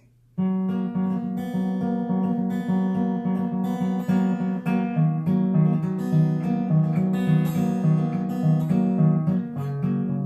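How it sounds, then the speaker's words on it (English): A guitar plays a steady, repeating picked pattern of clear ringing notes. It sounds close and even, with no voices. "it's this nice little picking pattern that sounds like this"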